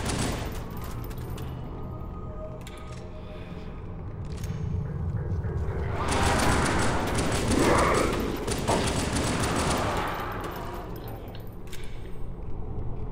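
Gunfire in Halo 2, rapid bursts of shots crackling over a busy combat din, growing louder and denser in the middle before easing off, with a voice speaking briefly.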